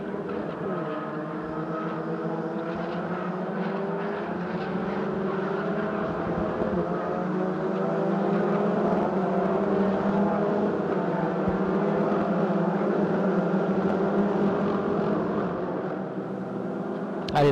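Peugeot 208 Racing Cup cars lapping the Magny-Cours circuit, a steady blended engine drone with rising and falling pitch sweeps as the cars pass, continuous and moderately loud throughout.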